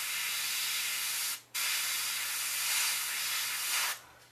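Airbrush hissing as it sprays dark gray pre-shade paint along panel lines on a Millennium Falcon scale model, a close steady hiss in two long bursts separated by a brief pause.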